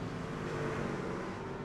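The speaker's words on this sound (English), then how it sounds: "I think he burned the whole rear tires off his car trying to get off of pit road" A race car pulls off pit road at a Las Vegas e-series race, its engine drone steady and loud with broadband tire roar from spinning rear tires throughout, no gaps or talk.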